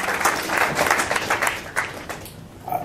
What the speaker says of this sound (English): Yes, give it a clap for your history,